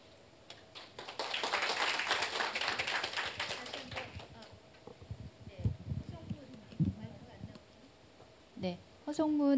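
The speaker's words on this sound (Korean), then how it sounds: "허송문 그 과장님께 다시 한번 여러분 박수 부탁드리겠습니다" A conference audience at the Jeju international expo for sixth-sector industry applauds after a presentation, a dense burst of clapping that swells and then thins into scattered taps and faint voices.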